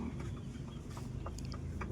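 Four-month-old Rhode Island Red hens cluck softly nearby, a few short scattered calls over a low, quiet farmyard background.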